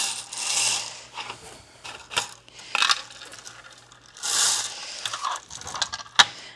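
A new bingo ball machine turns with clattering, rattling mechanical bursts and small clicks that rise and fall in uneven waves.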